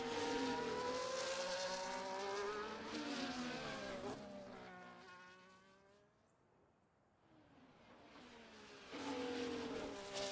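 In a racing video game, race car engines whine with steadily rising and falling pitch as cars pass, loud and layered. The sound fades to a quieter lull midway, then swells again.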